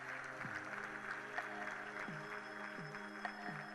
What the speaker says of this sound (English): So can we give them all a great round of applause for that?